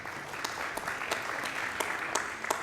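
A conference audience claps together, a dense steady patter of many hands at moderate loudness with a few sharper individual claps standing out.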